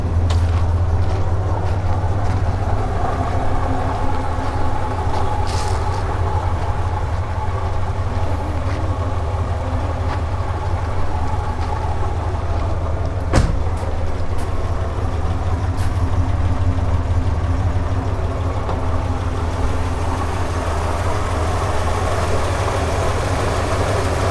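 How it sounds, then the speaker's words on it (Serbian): A five-litre eight-cylinder car engine idles steadily with its bonnet open, giving a continuous low rumble at a constant level, with one sharp click partway through and no speech. "5 litara mašina. Što 8 cilindera."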